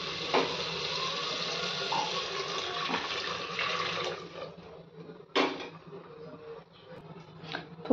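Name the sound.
water boiling in pulao pot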